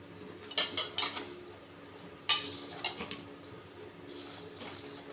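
Puffed rice for a Bengali sweet is stirred in a bowl, with a few sharp clinks and scrapes of a utensil against the bowl in short clusters separated by quieter stretches, heard close with no talking.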